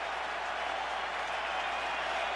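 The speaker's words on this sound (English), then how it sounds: "And the crowd roaring for another strikeout." Baseball stadium crowd at a New York Yankees vs. Minnesota Twins playoff game roaring steadily after a strikeout, a dense, sustained wash of cheering with no breaks.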